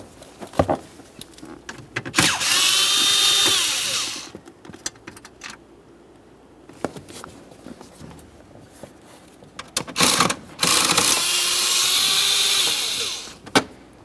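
On a 2001–2005 Ford Explorer Sport Trac, two 7mm bolts come out of the lower kick panel under the steering column. There are two separate bursts of close, whirring powered driving a few seconds each, with small clicks and handling noises between them.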